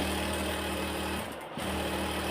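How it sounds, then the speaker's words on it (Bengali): A sewing machine runs continuously, stitching the head strip of a hijab with a dense, even whir that dips briefly midway before resuming at the same steady pace. "মাথায় যে পট্টিটা লাগাবো সেই পট্টিটা সেলাই করে নিচ্ছি।"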